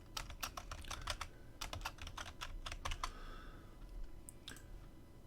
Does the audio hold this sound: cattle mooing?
no